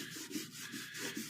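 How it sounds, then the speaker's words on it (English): A Big Mule wipe scrubs an engine part with light, steady pressure, giving a soft, continuous rubbing and wiping sound with gentle back-and-forth swells, close up and with no talking. "I'm not really scrubbing super hard."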